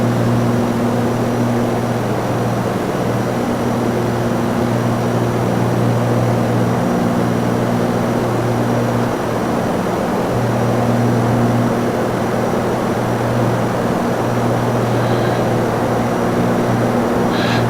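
Propeller aircraft engine in the flight simulator X-Plane 11, a steady loud drone with a constant hum throughout, throttling back while turning crosswind at 700 feet.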